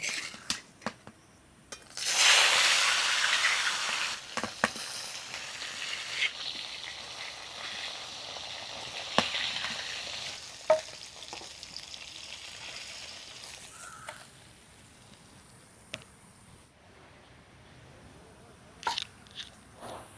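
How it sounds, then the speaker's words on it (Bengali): Koi fish dropped into hot mustard oil erupts in a loud burst of sizzling that gradually settles into softer crackling and spitting, with a few sharp pops and clicks near the end and no speech. "প্রথমে কিন্তু আমি মাছটা ভেজে নেব"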